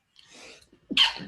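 A single sharp sneeze, preceded by a soft breathy intake, close and loud against an otherwise quiet background.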